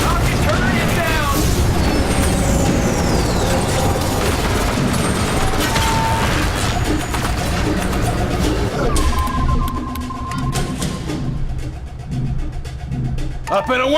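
Gunfire in a battle on an alien homeworld in X-Com: The Bureau, dense and continuous with booming blasts, mechanical noises and shouted voices throughout, thinning toward the end.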